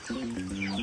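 Chickens cluck close by, short repeated tonal calls in quick succession over a faint background hum.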